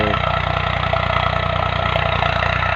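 A motorcycle engine idles close by with a low, even rumble and regular pulsing, running continuously without pause.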